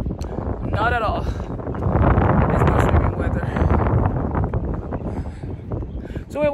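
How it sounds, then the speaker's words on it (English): Gusty wind buffets the microphone outdoors, a loud rushing roar rising and falling, with people's voices faintly mixed in now and then. "It's a little bit windy today"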